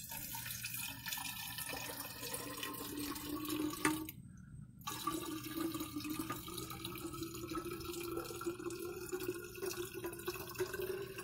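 Water pours into a Hydro Flask bottle, a steady trickling, gurgling stream that runs the whole time, broken by one short silent gap before the flow resumes.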